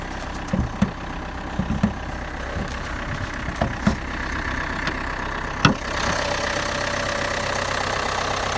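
An Opel Insignia's engine idles with a steady low rumble after being started following a long time parked, punctuated by a few sharp clicks and knocks, close and continuous without any talking.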